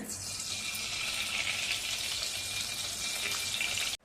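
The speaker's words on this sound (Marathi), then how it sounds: "इथे मी गॅसवर कढई ठेवले आपण कढईमध्ये चार चमचे तूप घालूया" Ghee heats in a kadhai on a gas stove, giving a faint, steady hiss and light sizzle that runs evenly for about four seconds before cutting off.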